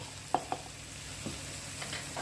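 Chilli and pepper powder with coriander are sautéed in a pan for chickpea curry, a quiet steady sizzle broken by a few sharp spoon clinks and scrapes.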